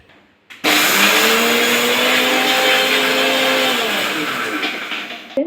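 A mixer grinder runs loud and steady for about five seconds, whirring as it grinds puffed rice together with roasted gram dal into a fine powder, then cuts off.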